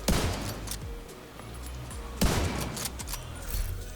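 Sniper rifle shots from a Nemesis build in The Division 2, two sharp loud reports with a strong one near the middle, over continuous in-game background noise.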